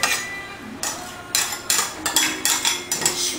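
A metal spoon scrapes and clinks against a bowl while yeast mixture for pizza dough is spooned into flour, giving a series of quick, close, irregular taps and scrapes.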